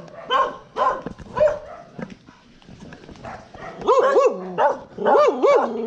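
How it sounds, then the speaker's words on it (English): Several dogs bark in a neighbourhood, first a few sharp separate barks, then a run of louder rising, yelping barks close by, with quieter muffled noise between bursts. "those dogs just raise hell all day long."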